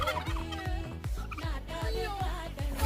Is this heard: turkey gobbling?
yes